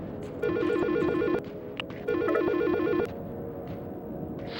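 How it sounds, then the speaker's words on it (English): A telephone in the game Silent Hill: Shattered Memories rings with two warbling electronic trill bursts separated by a short pause, loud and close over a low ambient drone. "On his way home, Harry receives another phone call and can hear Cheryl's and another's voice."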